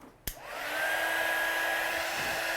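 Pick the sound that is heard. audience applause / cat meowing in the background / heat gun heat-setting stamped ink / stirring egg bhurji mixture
heat gun heat-setting stamped ink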